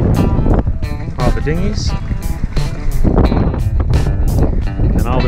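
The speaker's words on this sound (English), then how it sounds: "Got a good 30 knots going in the anchorage. Nice and breezy." Strong wind of about 30 knots gusts across a sailboat in an anchorage, a loud buffeting roar against the microphone, with a person talking over it and the slap of water nearby.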